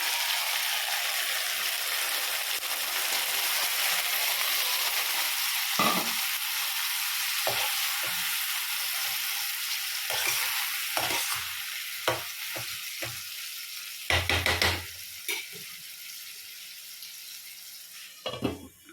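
Mutton being added to onions fried until browned in a pan, with a steady broad sizzle running throughout, punctuated by scraping and clattering stirring knocks near the end.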